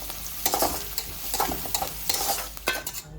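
Onions and green chillies fry in a pan, a moderate sizzle under repeated scraping stirs that come in quick uneven strokes, close by and without talk.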